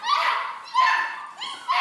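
A Goldendoodle puppy lets out a few close, high-pitched yips and whimpering barks in quick succession, loud and alone without talking.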